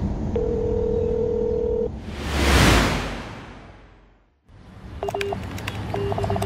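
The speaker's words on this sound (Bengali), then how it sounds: "বালাজির ফোনের রিং হচ্ছে।" A telephone rings in a Bengali audio drama as Balaji's phone is called: a steady tone, then a loud whoosh sweeping through, followed by short repeated ringing beeps near and clear.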